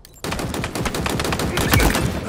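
Dense, rapid machine gun fire rattles almost nonstop for about two seconds in a Halo Infinite capture-the-flag multiplayer match, loud and close, with overlapping shots from several sources.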